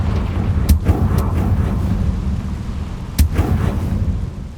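A Confringo fire spell blasting in the Hogwarts Legacy video game, with two sharp explosive cracks over a steady low rumble of ambience, loud and close with no talking.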